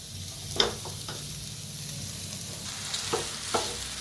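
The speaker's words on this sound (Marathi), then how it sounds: "आता ह्याच्यातच टाकूया आपण बटाटो" Potatoes being stirred and fried in a pan for vada pav filling, a quiet steady sizzle with a few sharp spoon clinks and scrapes against the pan, close and without speech.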